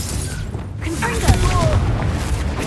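A Confringo blasting spell goes off in Hogwarts Legacy with a deep booming burst amid dense game effects, heavy low rumble under whooshing magic and a voice talking over it.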